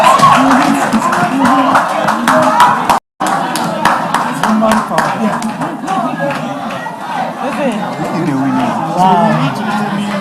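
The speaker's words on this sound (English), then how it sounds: "Please, let's give a round of applause." An audience at an inter-ministerial quiz competition claps steadily and loudly in a room, with crowd chatter and voices mixed in throughout.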